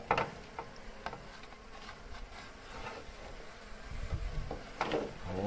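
Honeybees from a wild cavity-nesting colony buzz steadily while being transferred into a hive box, a continuous close insect drone with brief louder swells and faint handling noise.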